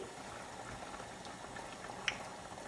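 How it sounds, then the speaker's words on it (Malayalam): Water poured into a pot of beef and bean chili with tomato, giving a soft, steady liquid hiss and bubbling, faint and even throughout, with one brief clink near the end. "ഇതിന് ശേഷം കുറച്ച് വെള്ളം കൂടെ ഞാൻ ഒഴിച്ചു കൊടുത്തു"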